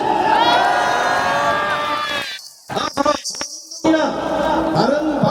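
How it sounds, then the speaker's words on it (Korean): A large crowd cheers and shouts loudly at an outdoor impeachment-protest rally at Gwanghwamun in Seoul, with voices rising together and a few brief dropouts breaking the roar. "자, KBS 박수 한번 쳐주세요."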